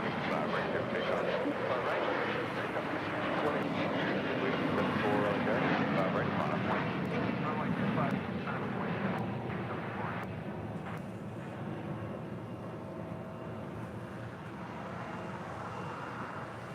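A jet airliner roars loudly and steadily as it takes off from LAX, its broad engine rumble fading slightly toward the end while people talk over it.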